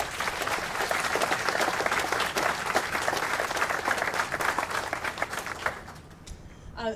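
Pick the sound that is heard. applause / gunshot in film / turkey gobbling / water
applause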